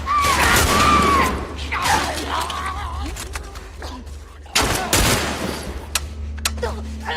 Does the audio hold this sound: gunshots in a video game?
yes